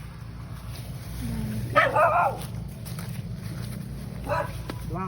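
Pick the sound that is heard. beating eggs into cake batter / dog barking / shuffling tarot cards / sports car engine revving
dog barking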